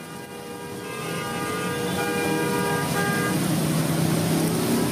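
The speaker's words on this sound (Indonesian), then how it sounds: "Kemacetan panjang kendaraan terlihat dari arah UKI menuju Kebon Nanas." Dense traffic crawls along a flooded road in East Jakarta, steady engine rumble filling the scene while several car horns toot in short bursts, fairly close, with no voices.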